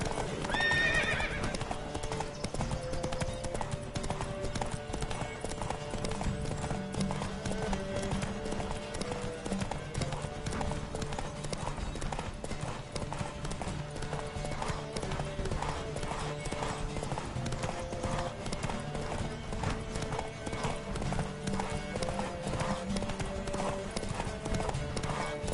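Horse galloping in a video game race, fast rhythmic hoofbeats running without a break under layered music, with a short neigh near the start.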